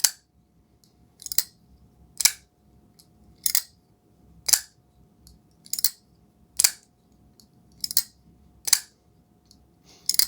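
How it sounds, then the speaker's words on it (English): A folding knife with a flipper and kickstop is flicked open and snapped shut repeatedly, producing about a dozen sharp metallic clicks at a steady rhythm, close up in a quiet room. "I love the extra sound you get from that kickstop doing its job and engaging and disengaging"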